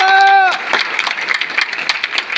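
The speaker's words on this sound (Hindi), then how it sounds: "एक बार भरपूर तालियों में हौसला अफजाई कीजिए राकिन आजमी" An audience at a mushaira in Qatar breaks into applause after a sustained tonal note fades, a steady patter of clapping that carries on at moderate volume.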